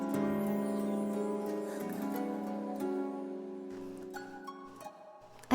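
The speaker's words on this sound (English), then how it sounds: "we have the close kotos that play this little run." A plucked koto plays a short, delicate run of notes that ring and fade, soft and alone.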